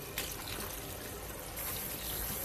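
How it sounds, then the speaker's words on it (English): Sea moss rinsed under running water, a steady broadband wash of pouring and trickling that holds close and constant from start to finish with no voices. "I'm going to give it a quick rinse"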